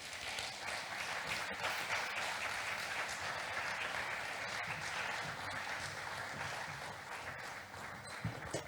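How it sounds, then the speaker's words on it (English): A conference audience at GYAS 2022 gives sustained applause after a talk, a steady, even roar of many hands clapping that carries on without a break, heard at a moderate distance. "Please continue clapping."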